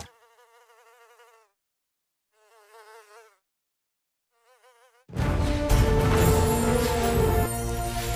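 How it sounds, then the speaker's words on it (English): Cartoonish mosquito buzzing from the mobile game South Park Phone Destroyer, three wavering whines separated by silence, followed by a loud burst of dense game sound effects. "Mosquitoes, bite!"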